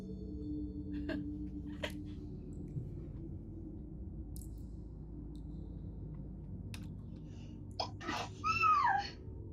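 A single sneeze bursts out near the end, short and sharp above a quiet background hum, following a few faint clicks and knocks.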